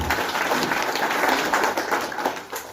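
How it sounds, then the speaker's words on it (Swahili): An audience gives sustained applause for a school principal at a family gathering, a dense, fairly loud wash of clapping that stays even before easing off at the end. "Pigeni makofi huyu madamu."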